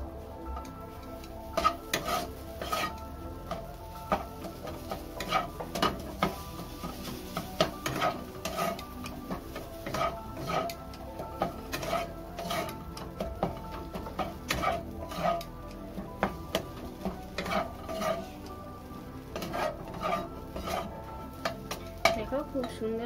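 A chana dal filling for dal puri is mixed with salt, a spoon scraping and stirring in steady, repeated strokes for the whole stretch, close and moderately loud, with no voices over it.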